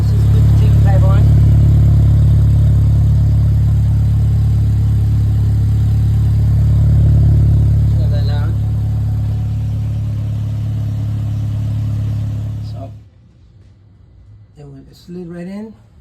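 A 2021 VW Tiguan with a B2B fab Tiggypipe exhaust idles loudly close by, a steady deep drone that holds for about twelve seconds before cutting off, followed by quieter moments with a person talking.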